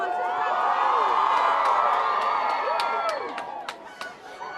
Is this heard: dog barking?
no